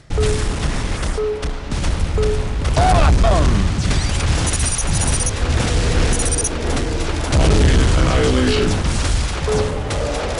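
Dense video game combat on an alien-invaded Earth: rapid gunfire and booming explosions over constant noise of alert sirens and beeps, with a brief excited voice exclaiming once.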